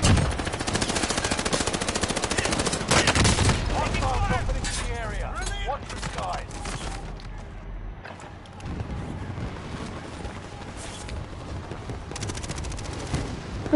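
Gunfire in an online shooter video game: dense, loud automatic bursts and rapid fusillades, strongest early on and then continuing more sparsely, with voices talking over the game audio.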